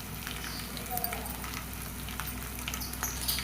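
Three garlic cloves frying in hot tempering oil for a red gongura chutney, a steady close sizzle with scattered crackles and a faint stir, while a voice talks over it.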